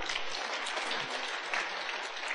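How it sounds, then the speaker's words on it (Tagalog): A church congregation at an Ilocano-language preaching service applauds, a dense, even roar of many hands clapping at once, steady throughout and heard alone. "Palakpak kayo ni Lord."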